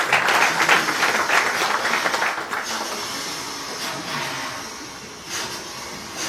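A crowd in a legislative assembly hall breaks into loud applause that stays dense at first, then thins and fades into scattered clapping and room noise.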